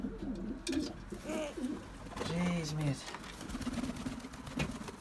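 Racing pigeons in a loft coo softly in a low repeated murmur, with someone talking over them at close range.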